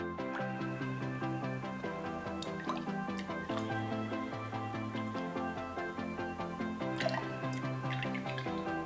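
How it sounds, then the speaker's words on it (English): RumChata cream liqueur poured into a cocktail glass, a continuous close run of bubbly, tonal glugs and drips lasting several seconds. "I'm gonna start by adding 4 ounces of Rum Chata."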